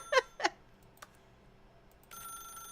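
Telephone ringing in the video game The Stanley Parable: two short bright ring bursts close together near the start, a faint click, then a sustained steady electronic tone, fairly quiet with no talk.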